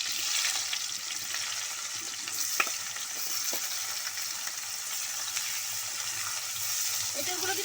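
Raw jackfruit frying in hot oil gives a steady, hissing sizzle throughout, with occasional soft stirring scrapes and a faint knock.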